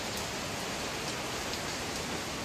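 Heavy typhoon rain pours down in a dense, steady hiss, with no voices or other sounds over it.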